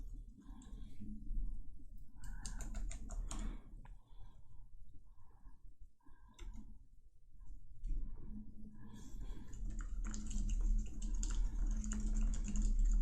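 Typing on a Rapoo 8000M Bluetooth keyboard, bursts of close, crisp key clicks separated by short pauses, then a denser run of rapid tapping toward the end.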